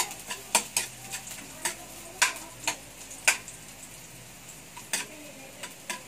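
Garlic sautéing in a pan for nachos, a low sizzle broken by a dozen sharp scrapes and clicks of a utensil stirring at an uneven rhythm, close by with no talking.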